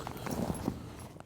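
Hooves of rodeo pickup horses clip-clopping at the National Western Stock Show in Denver, a quick cluster of close hoofbeats over a brief second of stable noise.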